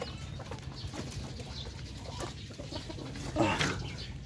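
A newly hatched native chicken chick peeps softly among nearby clucking birds, with a brief louder burst of chirping near the end over steady low background noise.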